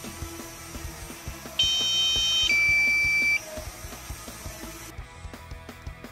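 Loud electronic warning beeps from a DJI Mavic Mini drone's low-battery alarm, with a steady high tone held for nearly two seconds over background rumble and clicks.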